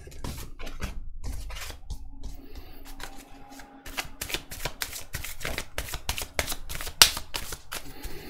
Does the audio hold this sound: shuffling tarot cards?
yes